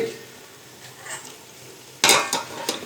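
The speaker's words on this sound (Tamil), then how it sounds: "சேர்த்து இப்போ நல்லா வதக்கிக்கலாம். இப்போ இது மாதிரி கிளறி விட்டுடுங்க" Tomatoes with ginger garlic paste sautéing in a pan, a quiet sizzle followed by sharp scraping and clattering strokes of a spoon stirring against the metal, loud and close.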